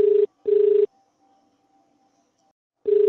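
A mobile phone rings with an incoming internet call, giving two short electronic ring bursts, a pause of near silence, then a third burst starting, clear and close.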